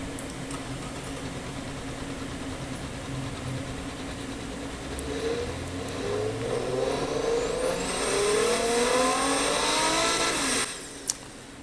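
A V6 trophy truck engine in an Automation/BeamNG game revs up through rising gear-like sweeps, building louder toward the end before cutting off abruptly, with no talking.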